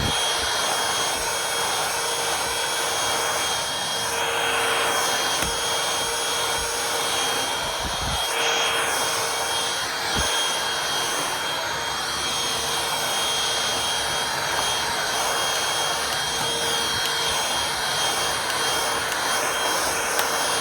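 Vax Slim vacuum cleaner with its small blue tool fitted, running in a steady loud whine and roar with brief bumps as it picks up porridge and cookie crumbs, no talking.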